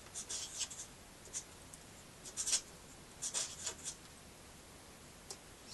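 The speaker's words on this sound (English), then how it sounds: "So I can actually just put the puzzle away and write down the solution." A pen scratches on paper while a Pyraminx puzzle solution is written down: quick, close, soft strokes come in short irregular bursts with pauses, alone over a quiet hiss.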